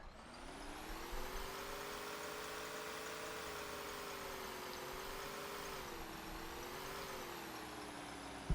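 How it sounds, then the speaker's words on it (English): A cold tractor engine in Farming Simulator runs steadily under heavy throttle, a continuous droning hum with slowly shifting pitch, fairly quiet and alone. "Nice cold engine, just pouring it to him."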